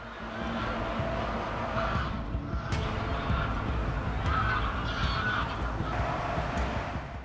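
Greylag geese honk repeatedly in short bursts over a steady rumbling background of wind and water.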